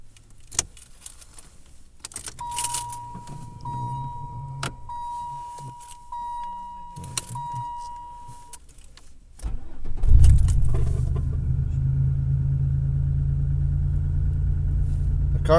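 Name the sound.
cold start of 1997 Monte Carlo LS 3100 V6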